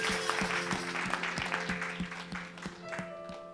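A church congregation claps and cheers in praise of Jesus, with a dense, steady burst of applause and a regular rhythmic clapping beat under it. Voices are mixed in.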